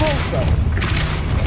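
A Depulso spell strikes in Hogwarts Legacy with a muffled booming thud and a short crackling burst near the middle, set against a continuous low droning game background.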